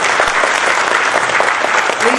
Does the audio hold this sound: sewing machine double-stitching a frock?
no